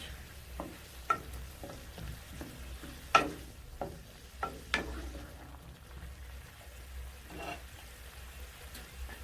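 Noodles are stirred with a knob of butter in a pan, under a low sizzle with sparse scrapes and taps of the spoon spaced through the stirring, close and fairly quiet, with no talking.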